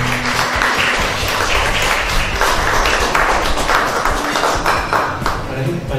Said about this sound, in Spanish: Le damos un fuerte aplauso a UCB Satelital.